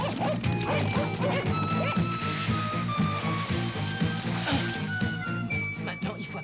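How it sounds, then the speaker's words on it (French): A pack of dogs bark and yip excitedly after being released, a dense rapid volley of overlapping barks close by, with a steady tonal drone running underneath throughout. "Lâchez les chiens. Tout de suite."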